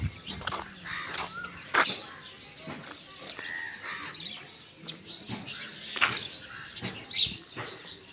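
Birds chirp and call in short, scattered bursts around a rural yard, with occasional bird sounds rising above quiet background noise; no speech is evident.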